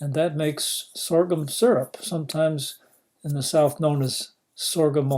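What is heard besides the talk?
No everyday noises stand out.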